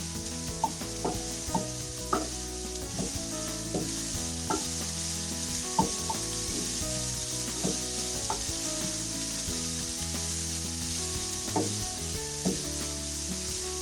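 Cauliflower sizzles quietly in a pan, a soft continuous fry punctuated by regular light taps and clicks of stirring, close and unaccompanied by voices.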